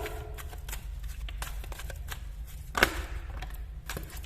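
Oracle cards are shuffled close up, giving soft repeated riffling flicks with one sharper slap of the deck near the end, quiet and without speech.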